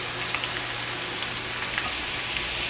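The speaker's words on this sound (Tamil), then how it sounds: "கிறிஸ்பியாக நல்ல லைட்லி கோல்டன் ப்ரௌன் ஆகிற வரையும் பொரிச்செடுப்போம்" Bitter gourd pieces deep-frying in hot oil until crisp and golden for a Sri Lankan sambal, giving a steady, dense, rain-like crackling sizzle that stays even throughout with no talking.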